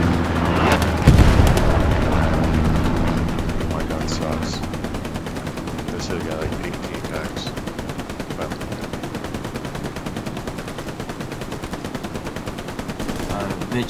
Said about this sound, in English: I'm throwing fucking grenades right over the wall